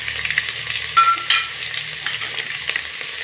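Chopped green chillies and garlic hitting hot oil with cumin, asafoetida and ginger-garlic paste for tomato rice, a close crackling sizzle with sharp spattering bursts near the start and stirring clinks, no talk.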